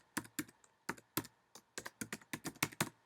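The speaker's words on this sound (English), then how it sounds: "So if we type this in here, Dalek," Keys on a computer keyboard are typed in a quick, uneven run of about a dozen crisp, close clicks, some paired and some spaced out, alone in a quiet room.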